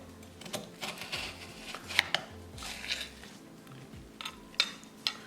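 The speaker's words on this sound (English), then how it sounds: "So you put your knife and just press it, and it won't be hard at all." Kitchen knife pressed through chicken breast into wafer-thin slices, with a series of crisp, close clicks and taps against the cutting board at an irregular rhythm.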